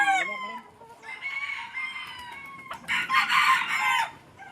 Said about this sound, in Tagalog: Ito po yung manukan ni Sir Ruel Manaig.